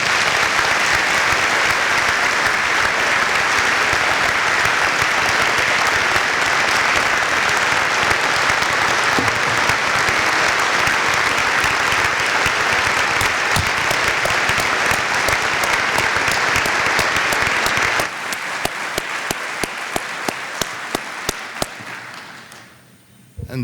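A room of about 1,000 people on their feet clapping after a leadership talk, dense sustained loud applause for most of the span, then thinning to scattered claps and fading out, with some voices mixed in.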